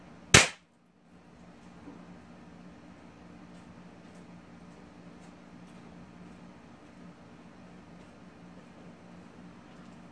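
A pump BB pellet gun fires once at a cell phone, giving a single sharp, loud crack right at the start, followed by a quiet, steady background hum.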